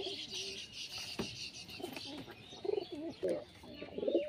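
Giribaz pigeons in a loft, giving soft, repeated throaty coos and a few chirps, faint and close, mixed with light background noise.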